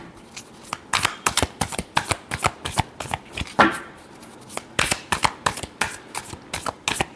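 Tarot cards are shuffled by hand in a steady rhythm, each riffle a crisp, papery burst, repeating about twenty times, close and clear with no talking.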